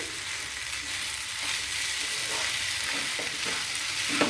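Sabudana pulao, a vegetarian tapioca-pearl rice dish, fries and gets stirred in a pan: a steady, dense sizzle with faint scraping strokes, fairly close and even throughout, no voices.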